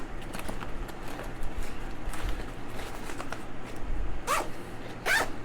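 A pocket on a 5.11 Tactical RUSH 100 backpack is zipped: two short, close, rasping zip pulls near the end, following soft handling rustles and fabric shuffling.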